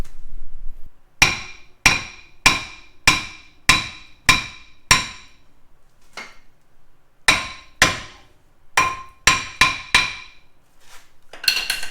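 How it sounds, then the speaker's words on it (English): Sharp metallic hammer blows striking a front brake caliper on a Kia Soul to break it loose, about fifteen loud, close impacts in uneven bursts with brief pauses between groups, no talking. "over here where we had the caliper itself, we just kind of smack it a few times"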